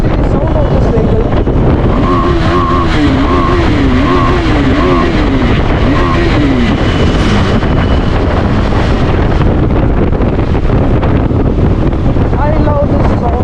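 A KTM 390 Adventure motorcycle engine under way while riding, a loud continuous drone with rising and falling revs, heavily buffeted by wind rush across the microphone throughout.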